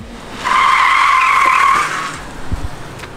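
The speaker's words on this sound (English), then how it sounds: "it sounds like Adam's coming with car number one" A chaser car arrives with a loud, sustained tire skid lasting over a second, then fading into engine rumble and a few thumps as it settles.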